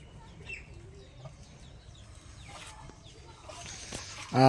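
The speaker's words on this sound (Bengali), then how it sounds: "আর ঘরে কিছু মুরগিও আছে" Chickens clucking in a rural village coop, with soft intermittent clucks and bird calls at a moderate distance over low background noise, ending in a louder burst.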